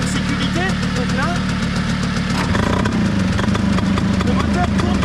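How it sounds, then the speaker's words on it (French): A Manurhin MR/SM75 scooter engine runs intermittently with the safety switch on, a steady close mechanical thrum whose tone shifts and thickens partway through, with no climb in revs. "le moteur tourne par intermittence"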